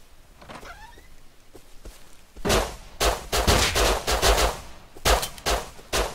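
Gunfire rings out in the Rust zombie survival game, starting with a few scattered single shots and then loud rapid bursts that come in clustered volleys, close and sharp.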